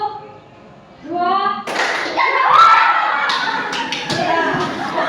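Schoolchildren in a classroom clap along after a teacher's spoken count, a loose burst of many small hands striking together with scattered taps and thumps, following her voice and continuing under murmuring children.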